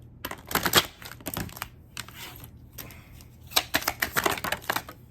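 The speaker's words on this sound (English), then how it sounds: "I can't shuffle today" Quick bursts of tarot cards being shuffled, riffled in rapid fluttering runs separated by brief pauses, close and crisp.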